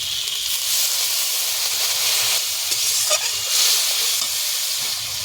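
Spices frying in a pan with a splash of water for an egg curry with matar dal, giving a loud, steady sizzling hiss with faint stirring throughout, no voices.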